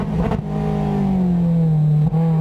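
A Mazda MX-5 Cup race car engine in a racing simulator revs up and holds a deep, throaty, bass-heavy drone, then briefly dips as if shifting before climbing again.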